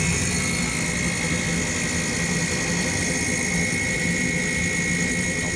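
A rooftop gas-electric unit's inducer draft motor runs with a constant loud whirring drone and steady high whine, unbroken throughout, with no talking.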